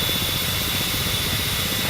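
The engine of a Ka-50 helicopter in the DCS flight simulator game drones and whirs in a steady, unbroken rumble at moderate loudness, with no voices.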